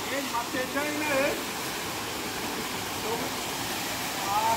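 Chimanapalli waterfall roars as a steady, broad wash of falling water, close and constant, with voices faintly audible beneath.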